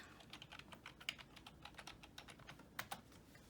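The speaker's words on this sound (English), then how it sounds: "now type in your password." Quick, quiet keystrokes on a computer keyboard as a password is typed, a rapid irregular run of soft clicks ending in a couple of sharper taps, with no voices.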